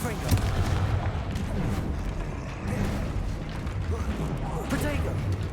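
Confringo fire spell explosions from Hogwarts Legacy during a fight with a troll, a dense run of booming, rumbling blasts that continue throughout, with game voices faintly mixed in.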